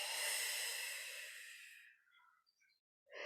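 A long, soft breath is exhaled through the nose during a gentle fertility yoga flow. It is close and airy and fades over about two seconds. A few faint small sounds follow, then a fresh breath begins.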